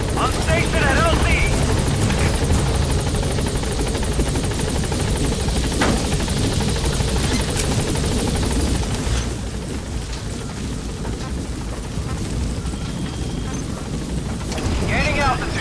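Pequod, a military transport helicopter in Metal Gear Solid V: The Phantom Pain, hovers at a landing zone, its loud steady rotor roar filling the whole stretch and easing slightly partway through, with faint radio-style voices underneath.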